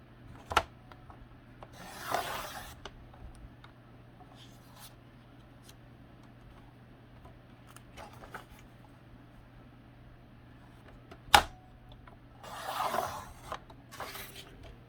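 Paper is cut lengthwise into strips for a handmade gluebook. Two short, soft rasping strokes come several seconds apart against a quiet room hum, with a few small taps and clicks between them.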